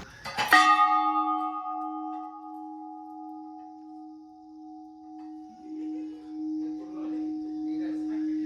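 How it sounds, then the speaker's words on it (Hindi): A large temple bell at a mountain mandir in Uttarakhand is struck once, giving a loud clang that rings on with a long, steady humming sustain while faint voices murmur in the background. "जैसे ही किसी ने घंटा बजाया, अंदर तक एक कंपन सी महसूस हुई।"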